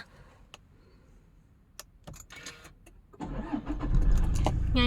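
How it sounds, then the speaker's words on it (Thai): A Toyota Fortuner 2.8 TRD Sportivo is started by push button: soft clicks and a brief whir, then the diesel engine cranks and catches, settling into a loud, steady idle close by. "เราเหยียบเบรกนะคะ แล้วเรากดสตาร์ทเอนจินตรงนี้ค่ะ"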